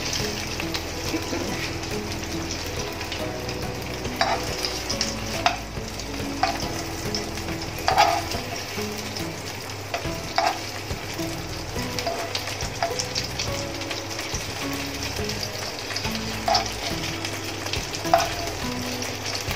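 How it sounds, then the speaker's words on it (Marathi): Paneer cubes sizzle steadily in an oily pan for a chili paneer dish, a continuous close frying hiss broken by occasional sharp crackles and spatula scrapes as the pieces are turned, with no talking. "आपल्याला जास्त फ्राय नाही करायचंय, अगदी स्लाइटली करायचंय"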